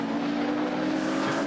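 A Holden Commodore race car, number 05, roars across the start-finish line under the bridge at Bathurst in 1980, its engine a loud, sustained, high-revving drone.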